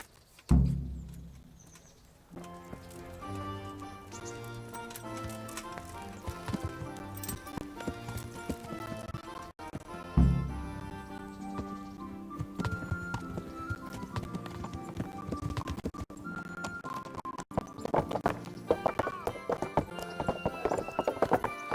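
Horse hooves clip-clop steadily with occasional neighs in the medieval game Kingdom Come: Deliverance, heard under a continuous orchestral music score that swells throughout.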